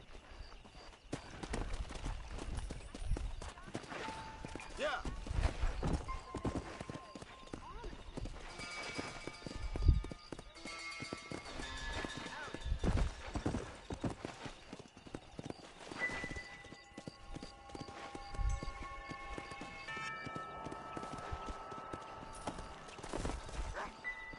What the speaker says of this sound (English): I might need my horse.